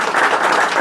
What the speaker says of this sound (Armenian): այս ծափերը ցույց են տալիս սերը